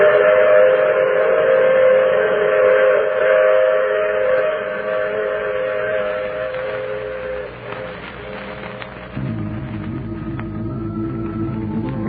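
A train sound effect from an old-time radio drama: a loud, sustained steam-type whistle over rumbling rail noise, fading and changing into a lower rolling clatter near the end.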